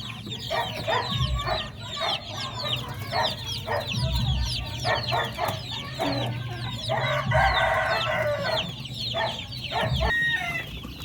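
A flock of chickens and young chicks cluck and peep continuously while pecking at wheat feed in a farm pen. The chatter is steady and layered, with occasional louder calls standing out.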